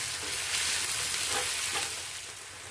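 Onions frying in hot oil in a pan for an Assamese-style egg curry: a dense, close sizzling hiss with a couple of soft stirring scrapes, swelling slightly before easing off.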